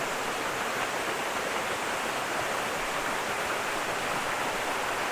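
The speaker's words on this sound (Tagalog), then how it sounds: "So ito na yung waterfalls dito sa pinaka ibaba" Busay waterfall at Maticdum, Tandag City, roaring as a steady, dense wash of falling water, loud and close, with no break in the rush for the whole stretch.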